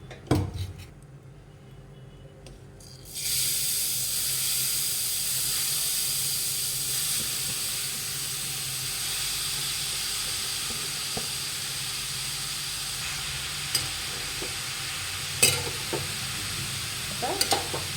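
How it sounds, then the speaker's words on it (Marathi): Grated carrots roasting in ghee in a kadhai over full flame for carrot halwa, giving a steady loud sizzle and hiss that starts abruptly after a quiet opening and continues with occasional stirring clinks. "दोन ते तीन मिनिट आहे ना आपल्याला फुल गॅसवर गाजर छान शकून घ्यायची"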